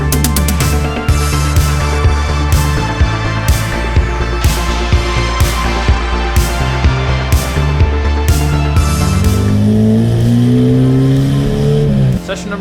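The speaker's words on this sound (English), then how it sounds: "it's my first time ever driving this car on a road course" A 10-second Honda Civic drag car on a road course at a Honda meet, its engine loud and close, climbing through revs with repeated sharp shifts and pitch steps, then a long sweeping rise and fall near the end.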